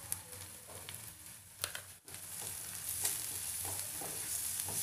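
Turmeric, coriander powder, garam masala and salt are stirred into a bhaji in a hot pan, giving a soft, steady sizzle broken by scraping and clinking of a spoon, with a momentary drop midway.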